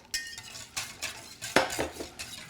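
A whisk stirs pastry cream base made with milk in a bowl, producing a few close, scraping and clinking strokes in an uneven rhythm with no talking.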